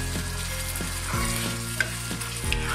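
Spice paste for mutton kosha fries in a hot pan, a steady close sizzle broken by repeated scraping strokes of a spoon stirring the masala.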